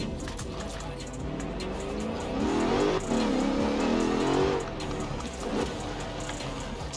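A car engine in Forza Horizon 4 revs and races, building to a louder sustained roar midway before easing back, with a voice speaking over the engine noise.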